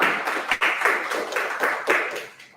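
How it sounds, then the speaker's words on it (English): An audience at a founders' live stage event in Hyderabad claps steadily, a dense rapid patter of many hands with slight rises and dips, fairly close and continuous until it tapers off at the end. "they're clapping."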